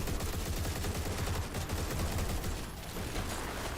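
Turrets firing in the video game Turbo Overkill: a dense, continuous barrage of rapid gunfire bursts fills the whole stretch, loud and close, with no talk over it.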